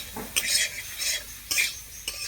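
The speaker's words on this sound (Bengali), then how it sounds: "এবার কিন্তু একটু নেড়ে চেড়ে নেবো ভালো করে।" Potato and stem vegetables with turmeric sizzle in a pan while a spoon stirs them in several distinct scraping strokes over a low, steady frying hiss.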